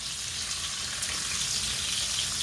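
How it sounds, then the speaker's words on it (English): Pork chops brown in a pan with a constant, moderately loud sizzle and crackle, with no voices over it. "We're only going to brown our pork chops for this part."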